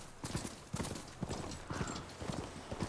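Horse hooves clip-clopping in Horizon Forbidden West, a steady walking rhythm of hoof strikes, moderately close but soft, repeating for three seconds over faint game ambience.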